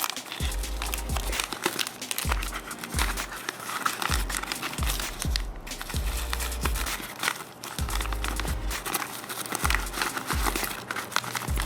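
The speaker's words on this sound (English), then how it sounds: "I put the card in the middle of the paper and I fold it like this" Paper is folded and creased around a Magic: The Gathering trading card for shipping, giving steady close crinkling and rustling with a series of soft rhythmic thumps underneath.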